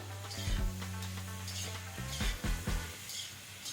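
Grass carp stir-fried with ginger and scallion in a wok gives a soft sizzle, with several clanks and scrapes of a utensil against the metal, close and fairly quiet.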